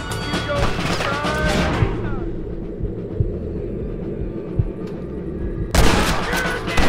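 Gunshots in the video game Red Dead Redemption, a few sharp reports at the start and again near the end, with faint background noise between.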